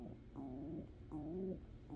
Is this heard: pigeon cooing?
yes